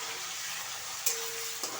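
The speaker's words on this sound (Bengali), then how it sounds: "আমি এইবার পেঁয়াজ বাটাটা দিলাম।" Onion paste frying in ghee and mustard oil, a steady close broadband sizzle with a couple of brief clinks or stirs, no talking.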